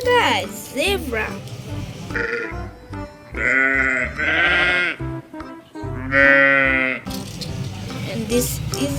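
A toy goat's electronic bleating repeats in several wavering, nasal bursts, loud and close, mixed with other toy animal cries and a rattling, with a person talking over parts of it.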